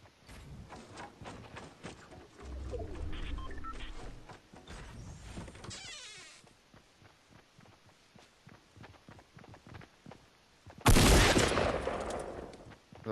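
Gunfire rings out in a video game, rapid bursts of sharp shots scattered over the stretch amid footstep-like thuds, ending with a loud close blast near the end.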